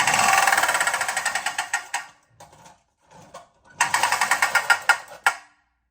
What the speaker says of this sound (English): one of the things about this toy that had to be annoying as hell for parents is it is so damn loud